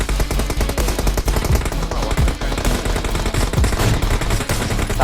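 Rapid automatic gunfire in the mobile battle-royale game PUBG Mobile, with dense, loud bursts of shots rattling almost nonstop and no voices.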